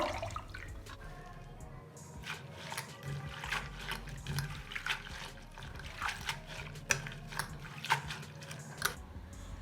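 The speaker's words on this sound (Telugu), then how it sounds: "ఈ ఆకుకూరని బాగా శుభ్రంగా రెండు మూడు సార్లు వాటర్లో వేసి కడగాలి" Water splashes and sloshes in irregular bursts as bathua leaves are swished and rinsed in a basin, with a low running-water rumble underneath.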